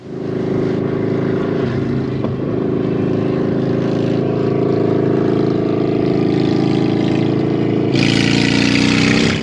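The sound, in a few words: custom motorcycle riding past for film shots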